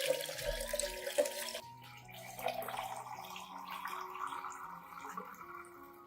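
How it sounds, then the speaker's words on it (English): Room-temperature water runs and splashes as it's poured into a garlic solution, a trickling stream with faint drips, fairly quiet and close. "add 1 liter of clean, room temperature water to the garlic solution"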